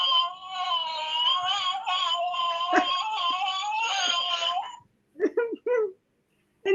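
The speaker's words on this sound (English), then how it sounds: "Cat fight." A cat fight plays as a sound effect: a long, wavering, moaning yowl runs unbroken for nearly five seconds, followed by a few short, sharp squalls. It is close and loud, with no voices.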